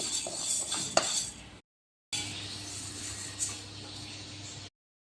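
A metal spoon stirs roasting urad dal in a dry pan for homemade sambar powder, with continuous close scraping and clinking, a sharp clink near the start, a brief silent break, then steady stirring again.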